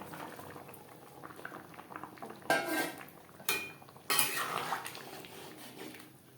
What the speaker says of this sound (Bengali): গ্রেভির সাথে আলু ও ডিম বেশ ভালো করে মিক্সড করে দেব।